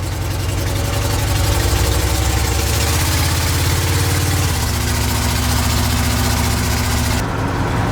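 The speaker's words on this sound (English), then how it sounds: "Runs awesome for a big block that's probably never had a tune-up." A big block V8 in a 1970 Chevrolet C10 Sierra Grande pickup runs at a steady, rumbling idle, close and loud, with a slight change in tone midway and no talking.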